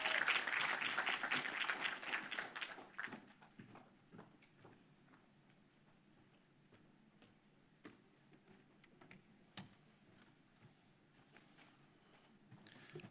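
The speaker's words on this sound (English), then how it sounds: "Let's clap and welcome him." At a thesis screening for animation students, a small audience claps to welcome a speaker, with a brief burst of applause in the first three seconds that thins to scattered faint claps and quiet room shuffling.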